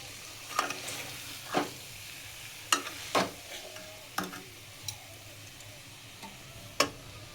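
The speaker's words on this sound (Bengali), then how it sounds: "এখন আমি এই মাছ, যে চিংড়ি মাছ ছিল, চিংড়ি মাছ আমি এবার এখন দিয়ে দিচ্ছি।" Prawns stirred and fried with pointed gourd and spices in a pan, heard as a low background sizzle broken by a handful of sharp, separate scrapes and taps of the spoon, close and fairly quiet, with no talking.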